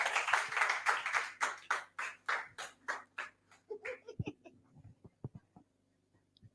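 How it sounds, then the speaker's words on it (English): Scattered clapping from a group at a community event in northern Nigeria, starting as a strong run of rhythmic claps that thins out into a few sparse, isolated claps before fading to near silence. "Can we clap for her, please?"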